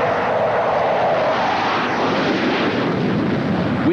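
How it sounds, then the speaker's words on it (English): A former Australian Navy A-4 Skyhawk jet, flown by New Zealand's Kiwi Skyhawks, gives off a loud, steady, close roar that fills the whole stretch without a break. "In fact, this one is one of the ex-All Australian Navy aircraft."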